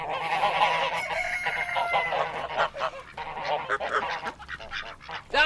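Farm fowl give a loud run of honking, quacking calls, several birds calling close by in overlapping bursts with short pauses, no talk.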